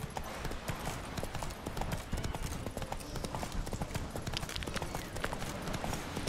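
Roach, the horse in The Witcher 3, clip-clops steadily along in game with rapid, even hoofbeats under low ambient sound and no talk.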